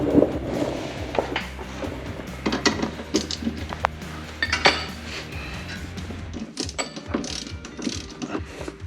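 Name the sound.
metal tools clinking while searching for a socket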